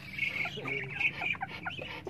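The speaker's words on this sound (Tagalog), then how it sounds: "isang malaking tandang." A large native rooster clucks close by, with a few quick, rising and falling calls over a quiet farm background.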